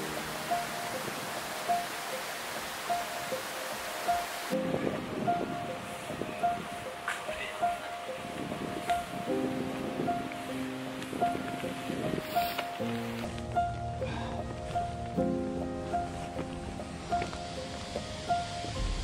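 Waterfall rushing on the Avalanche Peak trail in Arthur's Pass National Park, a steady broadband roar at moderate distance, with rustling and footsteps over it and a repeating faint tick throughout.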